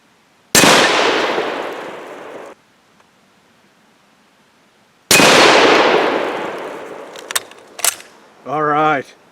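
Mosin rifle firing 7.62x54R reloads at a target outdoors: two loud close shots seconds apart, each with a long rolling echo, followed by a few clicks and a brief voice.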